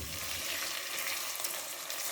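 Boneless chicken masala karahi fries in oil in a karahi, a steady dense sizzle with faint crackles throughout, close and even with no pauses.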